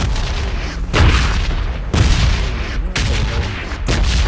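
Loud booming explosions from a red-zone bombardment in PUBG go off one after another, roughly once a second, each a heavy blast with rumbling fallout between.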